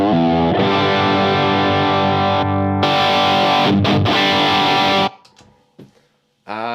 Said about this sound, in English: You can add overdrive.